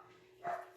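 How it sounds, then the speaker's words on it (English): Pet dogs give one short bark in the distance, faint and muffled indoors, rising briefly above a quiet background before dying away. "I don't know if you hear my dogs"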